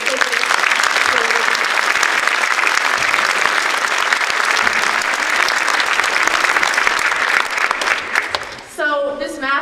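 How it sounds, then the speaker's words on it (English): Audience applause for the parent volunteers at a high school fall choral concert: dense, steady clapping fills the hall for about eight seconds, then fades as choral singing begins. "a round of applause for those parents"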